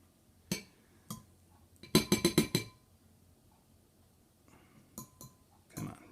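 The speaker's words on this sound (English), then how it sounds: "Give it a good stir." A spoon stirring a yeast mixture in a glass for homemade French bread: a quick run of bright, rapid clinks in the middle, with a few isolated taps before and after in a quiet room.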